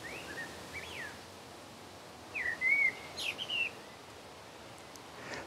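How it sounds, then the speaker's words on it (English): Two rival male blackbirds sing clear, fluting phrases in an English garden, one brief phrase early and a longer, louder warbling run midway, over quiet background hiss. "These two blackbirds, these two male blackbirds, are rivals in my garden."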